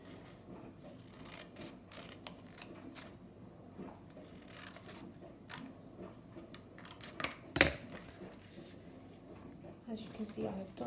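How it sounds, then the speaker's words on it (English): Scissors make one sharp snip through a paper card at close range, coming after a stretch of soft rustling and handling and partly under a person's talk. "use my scissors carefully to cut across these 2 lines"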